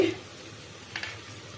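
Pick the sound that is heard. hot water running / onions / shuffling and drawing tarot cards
onions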